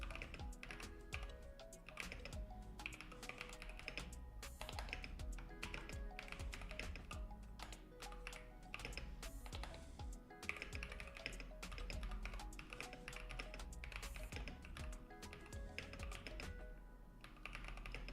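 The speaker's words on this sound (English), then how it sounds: "Oh, my typing is bad." Steady keyboard typing runs throughout, a dense patter of key taps mixed with a constant loud backdrop of other sound.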